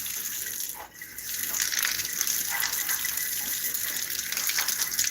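Water gushing steadily from a tap in freezing cold, a loud close rushing stream that briefly falters near the start before running strong and even, with no talking.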